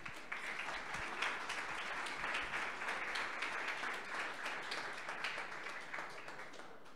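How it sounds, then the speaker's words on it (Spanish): Sustained audience applause at a Women in Data Science event, dense steady clapping filling the room for about seven seconds at a fairly even level. "Entonces, un aplauso de nuevo, por favor."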